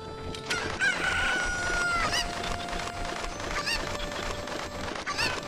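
Chickens in Zelda: Ocarina of Time cluck and let out repeated rooster crows, a bright, close, busy barnyard chorus that carries through the whole stretch with no talking.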